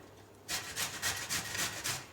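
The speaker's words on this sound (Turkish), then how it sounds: "ben iri gözünden rendeliyorum" Cauliflower rubbed over the coarse side of a hand grater, a run of about seven rasping strokes in steady rhythm after a short quiet start, close and fairly loud with no talking.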